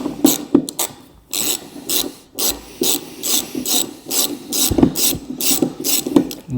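A ratchet undoes a star drive bolt on the rear bumper of a Vauxhall Corsa D, clicking in repeated close bursts of rapid pawl ticks with brief pauses between strokes.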